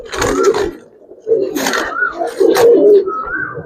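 Pigeons coo in a few repeated bursts at a pigeon farm where Giribaz and coloring breeds are kept, fairly close and clear, with short gaps between calls.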